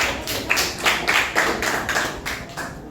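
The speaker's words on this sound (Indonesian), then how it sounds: "Kita berikan aplaus dulu temannya." Classmates clapping for a student in an Indonesian school classroom, a short burst of several claps with a loose, uneven rhythm, fairly close and moderately loud.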